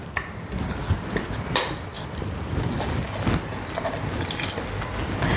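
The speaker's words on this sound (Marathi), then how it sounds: "पाण्याला उकळी यायला लागलेली आहे. तांदूळ टाकून घेते." Rice dropped into a pot of boiling water in a home kitchen, heard as close clattering and clinking of metal and grains with scattered sharp knocks over a steady bubbling hiss.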